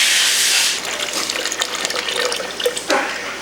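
Radiator coolant on a 2013 KTM 250 XC-F dirt bike pours out in a bright splashing gush that quickly thins to a trickle and scattered drips into a drain pan, close by with no talk.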